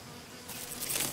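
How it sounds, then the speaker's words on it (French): Foraging honeybee leaving its hive, a faint, brief buzzing hum that swells slightly over about a second against a soft background. "Une abeille butineuse qui sort de sa ruche remplit plusieurs fonctions pour sa colonie"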